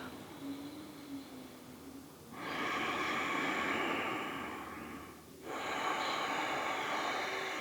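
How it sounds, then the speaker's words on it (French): Slow, audible Ujjayi yoga breaths with a hissing, sea-like rush, two long exhalations filling most of the stretch, close and steady, with no talking. "venez trouver la respiration sonore, Ujjayi, qui est comme le bruit de la mer"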